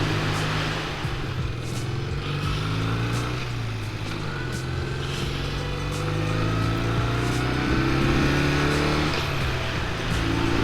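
A 1973 BMW R60/5 airhead boxer-twin motorcycle being ridden, its engine droning steadily with shifting revs, wind and road noise mixed in throughout.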